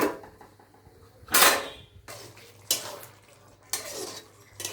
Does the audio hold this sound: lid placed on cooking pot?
yes